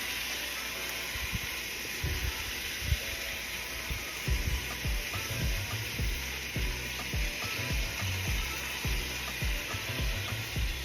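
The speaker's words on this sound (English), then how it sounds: "You can hear how loud that sizzle is." Loud, constant sizzling of carne asada on a hot flat top grill, with crackling pops and occasional scraping thumps throughout.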